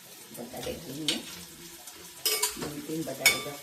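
Potato pieces dropped into a hot pan for rava upma, sizzling and scraped around with a spoon in short bursts of stirring, with a few bright metallic clinks, close and moderately loud.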